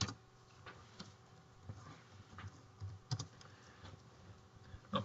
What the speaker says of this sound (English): So we'll type in Excel.